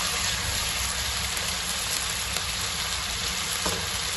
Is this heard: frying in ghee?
yes